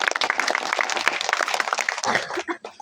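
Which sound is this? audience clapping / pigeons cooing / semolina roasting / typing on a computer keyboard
audience clapping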